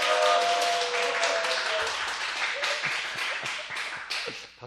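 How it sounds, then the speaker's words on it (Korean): Audience applause fills a lecture hall at the opening of a Korean Bible lecture on the Gospel of John, dense steady clapping that gradually thins out over several seconds. "박수 받으니까 그래도 기분이 좋아요."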